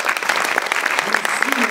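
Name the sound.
audience applause at film festival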